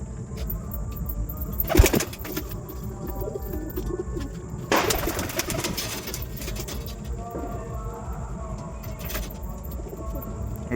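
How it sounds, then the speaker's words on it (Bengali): Pet pigeons feeding at night after being given food and water make soft coos and murmurs throughout, with occasional louder clattering bursts of movement. "সব কটা পায়রা খাওয়া দাওয়া করছে"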